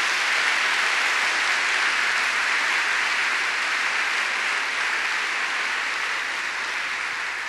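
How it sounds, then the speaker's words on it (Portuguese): Congregation applause during a family church service, a loud, steady wash of many hands clapping together for several seconds, slowly easing off toward the end. "Dá uma salva de palmas para Jesus."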